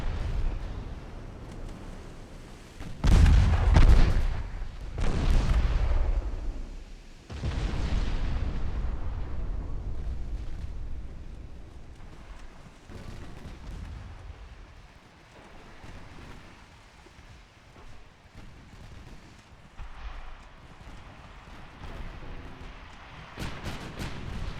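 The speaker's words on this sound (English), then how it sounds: "The 6-inch guns are putting in some work." Heavy 6-inch naval guns fire in Ultimate Admiral Dreadnoughts, a few loud booming blasts early on followed by rumbling, fading echoes and softer distant explosions over a low background roar.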